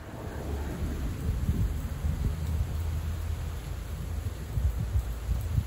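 Heavy typhoon rain pours down on Awaji Island as a dense, steady roar of hiss with low rumbling underneath, loud and unbroken throughout.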